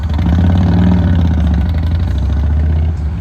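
A Harley-Davidson motorcycle engine idles steadily and loud close by, a continuous low throbbing rumble with no talking.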